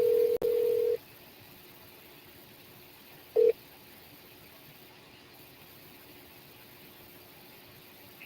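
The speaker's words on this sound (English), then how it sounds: "I will dial 611 from the same phone," An iPhone on Verizon 5G dials 611, giving three short keypad tones: two quick beeps close together, a pause, then a third, over faint background hiss.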